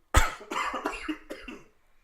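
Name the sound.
cough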